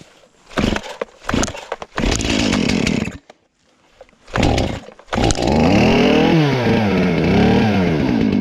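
A chainsaw with a freshly changed chain bucks a big white oak log outdoors, with bursts of revving and cutting at first, then a steady loud run from about five seconds on, the engine pitch wavering as it bites into the wood.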